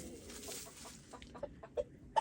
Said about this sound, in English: We only have these two chicken, these two hens with this rooster.